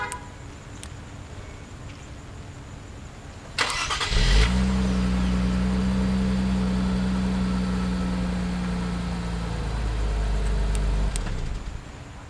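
Infiniti Q60 3.0T coupe started by remote start: a short crank catches into a loud, steady idle that holds for several seconds, then cuts off abruptly.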